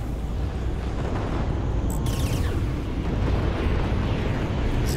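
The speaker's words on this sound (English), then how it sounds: "Got missiles out on him now." In the space combat game Fractured Space, missiles pound a capital ship with a continuous, heavy rumbling barrage of explosions, loud and unbroken, with a few sharper bursts over it.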